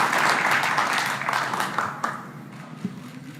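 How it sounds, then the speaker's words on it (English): Applause from an audience at a USA vs Russia pool match fills the room, dense clapping at first that thins and fades into scattered claps and taps by the end. "So, your applause."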